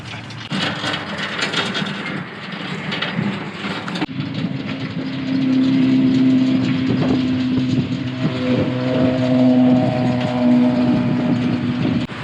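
A chain ferry crossing a river in the Netherlands, its steady mechanical drone rising and growing heavier partway through as the chain comes up out of the water and the ferry speeds up, with a sustained tonal whine over rumbling machinery.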